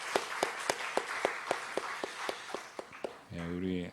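Rhythmic clapping from a church congregation, about a dozen even claps in steady time, followed by a voice starting to speak at the end.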